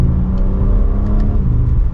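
A 2023 BMW M3 Edition 50 Jahre BMW M accelerates hard from second gear, its engine and exhaust a loud, close, steadily climbing roar with no pauses.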